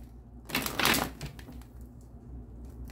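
Tarot cards riffled in a single quick shuffle, a short papery burst up close and fairly faint, followed by quieter handling in a still room.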